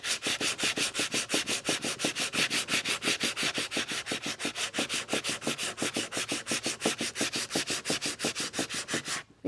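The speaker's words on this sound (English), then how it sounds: "But you always sand with the grain." A hardwood sculpture is sanded along the grain with rapid, steady back-and-forth strokes, a loud, continuous rhythmic rasping that runs close and uninterrupted throughout.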